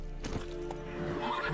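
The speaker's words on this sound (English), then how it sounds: "Should probably ride the horse." In The Witcher 3, a horse gives a brief whinny with clip-clop hooves against game music and ambience, fairly quiet and close.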